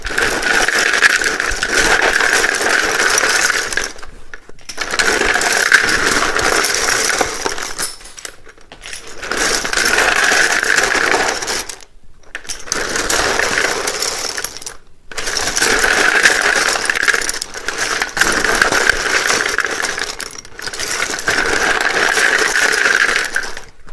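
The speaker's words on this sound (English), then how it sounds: "you might want to turn down the volume because it can be a little bit loud when I shuffle these." A deck of tarot cards is shuffled in repeated loud, close bursts of rapid papery riffling, about six in a row, each separated by a brief pause, with no talking.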